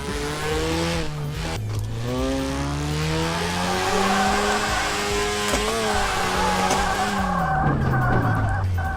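Drift21 video game car sliding through corners, its engine revving up and down in rising and falling pitch while tires squeal and skid, loud and continuous, with no talking.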